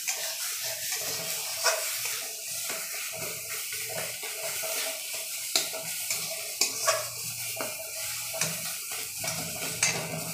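A wok on a home stove rattles and clanks while prawn curry is stirred, with irregular sharp knocks over a soft bubbling sizzle and some watery splashing. No one speaks.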